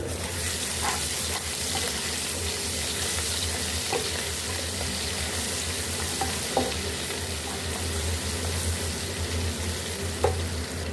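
Steady sizzling of garlic, ginger, green chillies and crushed whole coriander frying in a pan for chicken haleem, with occasional soft clinks and stirring sounds throughout.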